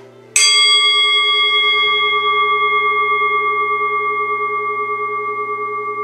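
A single bell is struck once to begin yoga breathing, a bright metallic strike that settles into a long, clear, slowly fading ring with steady pulsing overtones, close and alone in a quiet room.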